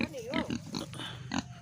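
A pig bought for slaughter gives a few short, near grunts and squeals in quick succession, with a person's voice mixed in.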